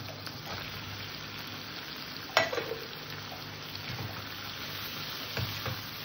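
Mutton pieces dropped into hot spiced oil in a kadai give a sharp splash and a brief burst of sizzling, then settle into a steady, moderate frying hiss with faint stirring knocks.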